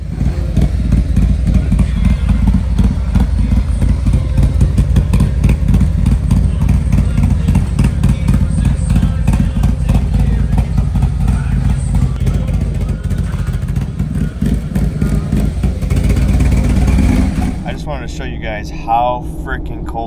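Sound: Harley-Davidson Road Glide engine with Wood 22XD cam running

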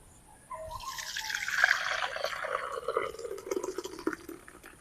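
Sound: milk poured into a clay pot for sweet yogurt

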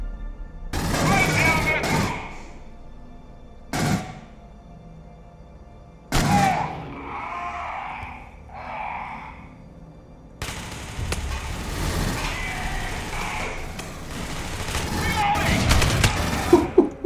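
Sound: sharp rifle gunfire in Aliens Colonial Marines video game

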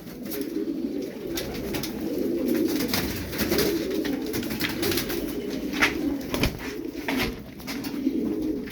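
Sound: tumbler pigeons cooing

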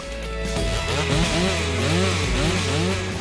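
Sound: STIHL MS 462 C chainsaw running

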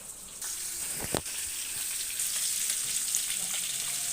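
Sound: banana dish frying on the stove

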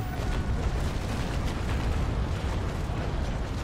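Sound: ship cannon fire from the video game Naval Action

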